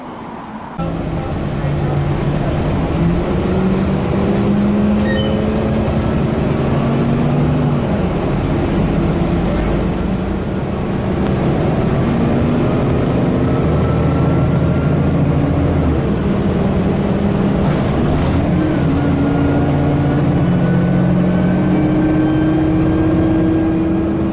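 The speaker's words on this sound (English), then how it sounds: "There's the bus going back to McMinnville." City bus at a transit center in Salem, Oregon, heading to McMinnville: a loud, sustained engine drone with rising and falling gear tones over steady road noise, close by for the whole stretch.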